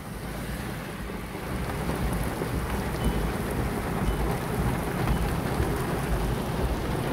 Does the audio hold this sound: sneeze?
no